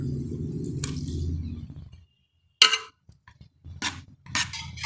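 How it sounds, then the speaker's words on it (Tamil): Chopped tomatoes drop into a pan of softened onion and garlic being sautéed for a spicy Tamil dry-fish gravy, giving several short, wet squishing bursts with stirring between them after a quiet pause. "கூடவே நாம் தக்காளி சேர்த்துடலாம்."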